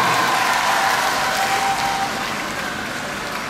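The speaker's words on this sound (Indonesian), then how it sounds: "Tepuk tangan buat semua dulu nih." Broad applause from a big crowd at a cooperative's annual meeting in East Nusa Tenggara, a thick continuous wash of clapping that gradually softens toward the end.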